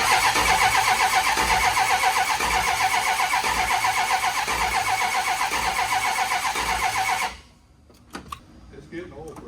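A rebuilt Small Block 360 V8 cranks and fires, then runs loud and rough near the microphone for several seconds before cutting off, followed by faint clicks and low voices.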